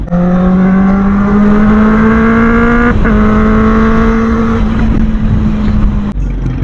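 A smooth, steady Suzuki Bandit 650 inline-four motorcycle engine hums and revs with a rising pitch, briefly dipping midway, loud and close with no talking.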